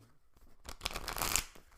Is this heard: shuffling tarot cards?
yes